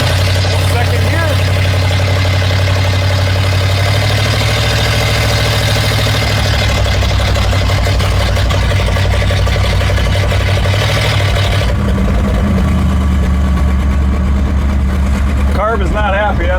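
A barn-find Lincoln's carbureted engine runs rough in second gear, a loud, uneven low rumble that keeps going under a voice.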